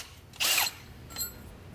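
A short, loud burst of a power drill with a 1/4-inch bit spinning up and stopping, followed by a fainter brief whir a moment later.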